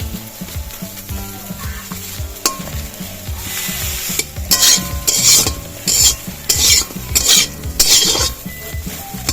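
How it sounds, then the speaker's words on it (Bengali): Soybean chunks fry in a pan for a soybean curry, a steady crackling sizzle with repeated scraping stirs, louder bursts of spatula scraping in the second half. "সয়াবিনের তরকারির জন্য আমি সয়াবিনটা ভেজে দিচ্ছি"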